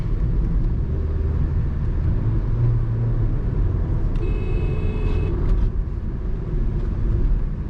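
Skoda Kushaq 1.5 TSI SUV driven in sport mode with paddle shifters on a city road, a steady low engine and road rumble filling the cabin, with a faint high chime briefly sounding midway.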